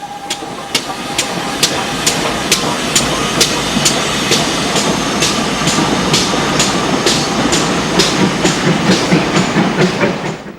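A preserved steam locomotive on the Severn Valley Railway crossing Victoria Bridge over the River Severn, loud and close, with a steady rapid chuff rhythm over a constant roar and hiss.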